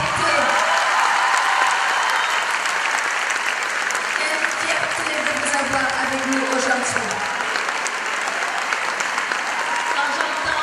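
An audience applauds continuously at a large gathering, a dense sustained clapping while someone speaks over it.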